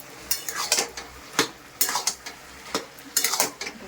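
A utensil scrapes and clatters against a pan in quick irregular strokes while a faint sizzle of frying runs underneath, as ginger paste is stirred in the pan.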